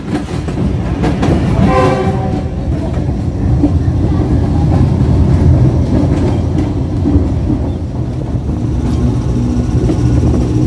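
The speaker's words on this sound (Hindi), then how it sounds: "टू डाउन खैबर मेल जियो 49024 के साथ साहिवार रेलवे स्टेशन से रवाना हो रही है" The 2 Down Khyber Mail pulls out of Sahiwal railway station, a loud horn blast sounding early over the heavy, steady rumble and clatter of the moving train close by.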